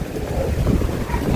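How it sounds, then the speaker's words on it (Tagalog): Strong wind from a storm gusts against a house, a loud, rough, rumbling roar buffeting steadily throughout. "dumating yung hangin, lakas"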